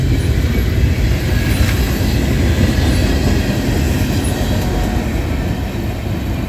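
A freight train with Norfolk Southern hopper cars rolls past close by, a continuous loud rumble of wheels on rail with faint clicks and metallic squeal, steady throughout with no voices.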